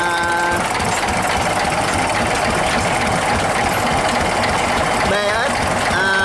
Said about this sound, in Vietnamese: Yanma động cơ diesel BS 11, nó là 11 nữa các bạn.